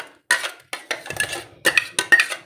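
Soup poured through a strainer into a pot, heard as bursts of clattering metal and sloshing that come and go in short pulses, fairly close and loud.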